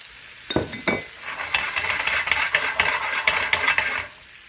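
Shrimp and vegetables fry in a pan, giving a crackling sizzle broken by scraping and stirring clatter from a utensil, close and moderately loud, with no talk.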